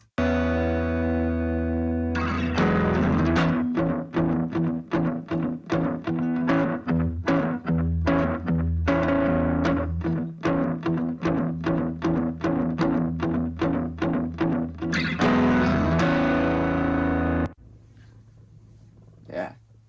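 Electric guitar through effects plays a fast, rhythmic picked pattern with chorus and drive, steady and prominent, ending on a held chord that decays.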